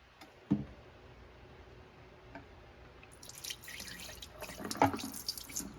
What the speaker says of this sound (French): je vais vider l'eau pour vous montrer la couleur